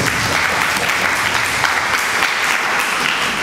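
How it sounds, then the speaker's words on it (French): Audience applause for Seigne Mansour at a geometric convergence BIM masterclass, a dense steady wash of many hands clapping that holds evenly throughout, with no voices over it. "Donc on peut encore applaudir"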